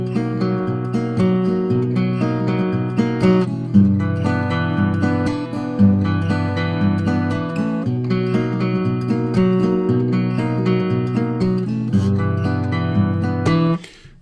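Guitar alternating the first two intro chords of a song: a continuous strummed and picked pattern rocking between two chords, steady and close, played alone with no talking and ending abruptly.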